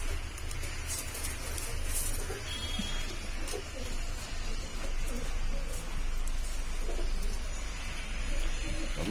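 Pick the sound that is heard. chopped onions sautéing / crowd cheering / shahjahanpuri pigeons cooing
shahjahanpuri pigeons cooing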